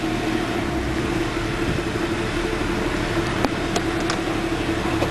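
A misfiring 1998 Mercedes E320 engine bogs down under wide-open throttle, a steady close rumbling drone with a rough, uneven tone and a few faint sharp ticks near the end, no talking.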